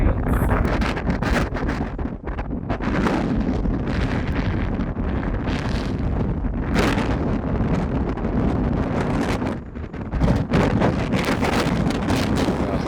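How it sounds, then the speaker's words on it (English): Strong, roaring wind buffets the microphone continuously aboard a boat, with broadband rumble and gusty surges throughout, loud and close. "The wind is absolutely pumping."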